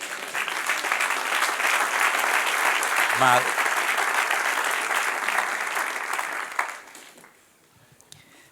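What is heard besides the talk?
applause from a church congregation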